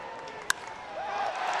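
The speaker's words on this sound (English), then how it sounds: "this crowd's going to start buzzing now when they see him" Baseball stadium crowd murmur building into a rising buzz, broad and distant, with a sharp crack near the start and a whistle-like tone sliding through the swelling noise.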